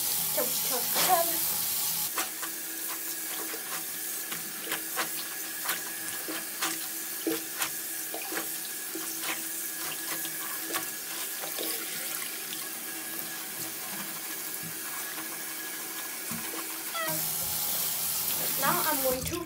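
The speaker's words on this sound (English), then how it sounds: "Now I'm going to rinse it." Stained clothes rinsed under a running tap, steady splashing water with scattered wet squelches and clicks as fabric is handled, lasting throughout at moderate loudness.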